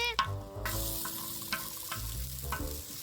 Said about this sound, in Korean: 올리브유 마늘 넣어주세요